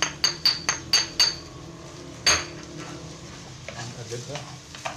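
A spoon stirring vermicelli rice in a pot, with a run of six sharp metallic clinks against the pot, another knock, then softer scraping stirs with a faint sizzle underneath.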